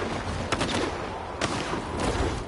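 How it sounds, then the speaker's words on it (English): Gunfire in the video game STALKER 2, a few sharp shots popping out of a dense, noisy background of ongoing battle, steady and moderately loud with no talking. "Oh, the shooting's over here."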